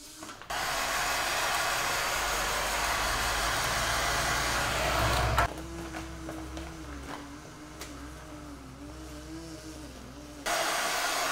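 A heat gun blows steadily on carbon film being laid over a car mirror, a loud broadband whoosh that drops in level midway, with faint handling noises, then surges back to full strength at the end.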